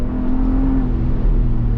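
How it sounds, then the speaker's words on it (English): A 2023 Ford Bronco Raptor accelerating, its engine giving a steady, loud, low-pitched drone that holds evenly throughout with no talk over it. "I've got another opportunity here to give it some gas"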